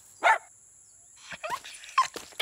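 A dog gives a single close yip or bark, followed by a short run of softer whimpering and yelping sounds against a quiet background.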